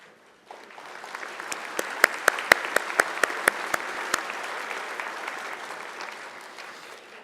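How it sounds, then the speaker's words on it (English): University commencement audience applauding for the committee, sustained dense clapping that rises after a quiet start, with a run of sharp, loud claps standing out near the front before it slowly tapers. "offer a round of applause for that committee's work"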